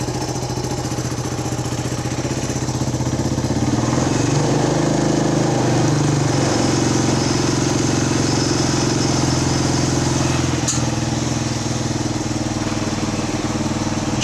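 Honda XL125S single-cylinder motorcycle engine running steadily after a valve adjustment, a continuous close, even idle throughout.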